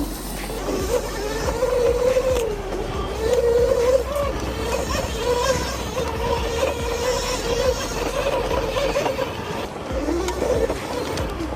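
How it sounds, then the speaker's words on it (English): An ETM RTR Sport electric bike runs with its chain and motor, a smooth whirring drone that rises and falls in pitch as it moves, steady and fairly close, with no talking. "that chain and motor setup sounds really smooth and nice"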